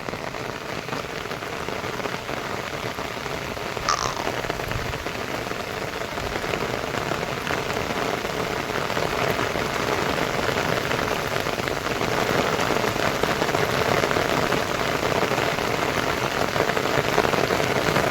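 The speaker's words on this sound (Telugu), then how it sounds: "వాన చూడుర్రి ఎట్లా కొడుతుంది." Heavy rain pours steadily onto surfaces in an outdoor setting where goats are kept, a loud, dense and continuous hiss of drops with no talk.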